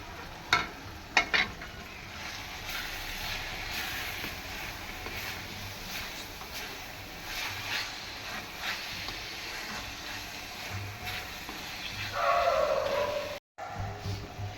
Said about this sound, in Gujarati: અને પનીર નાખી દઈશું છીણેલું. અને મિક્સ કરી દઈશું.